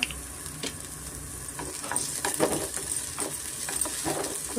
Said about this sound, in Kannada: ಕೊತ್ತಂಬರಿ ಸ್ವಲ್ಪ ಪುದೀನ ಸ್ವಲ್ಪ ಎಣ್ಣೆಯಲ್ಲಿ ನೋಡಿ ಈ ಥರ ಫ್ರೈ ಆಗಬೇಕು